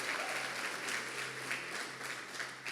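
A church congregation applauding together: steady, dense clapping from a large crowd that holds at an even level throughout, with pulses of louder bursts and no voices breaking through.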